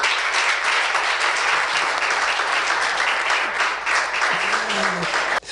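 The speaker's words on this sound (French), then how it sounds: "Je vois le public applaudir" Dense, steady applause from a large audience fills the whole stretch, loud and continuous before stopping abruptly at the end.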